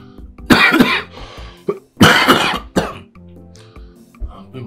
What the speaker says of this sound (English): I have this severe cough